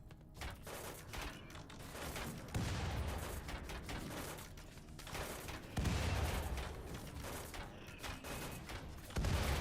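Video game gunfire aimed at a lancer enemy: a dense, continuous barrage of rapid shots with heavier thumping bursts every few seconds, loud and close throughout.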